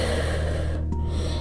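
Steady audible breathing during a home yoga workout in child's pose, a continuous soft airy exhale lasting throughout, close and moderately loud, with no talking.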